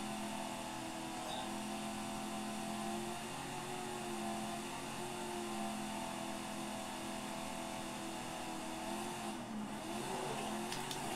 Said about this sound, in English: That car flew by me.